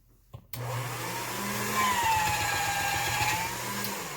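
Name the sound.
pasta machine rolling out polymer clay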